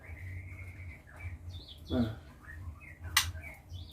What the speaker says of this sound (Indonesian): Kicauannya saya ingin menunjukkan kepada teman-teman semua salah satu trotolan yang prospek juara ya teman-teman.